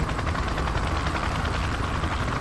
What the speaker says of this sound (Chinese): 用直升机在轰炸，那个爆炸影响我。